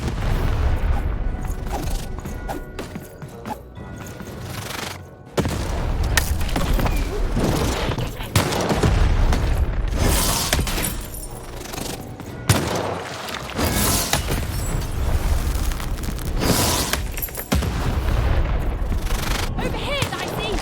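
Cannon fire in the video game Lost in Random: repeated heavy booms and bursts of blasting, loud and close, separated by stretches of rumbling game action.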